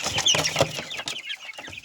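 Hybrid chickens cluck repeatedly at feeding time, a close, busy run of short clucks and squawks that thins out toward the end.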